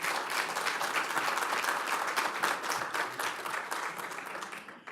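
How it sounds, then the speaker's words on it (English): A poverty conference audience breaks into sustained applause, a dense wash of many hands clapping from a large room, steady and then slowly tapering near the end, with no voices over it. "That's worth a round of applause."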